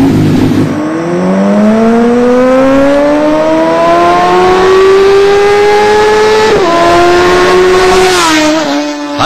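Loud, close engine revving hard on Delhi streets, pitch climbing steadily then dropping briefly and rising again, with a brief squeal at the end and no talk, from a biker gang racing motorbikes.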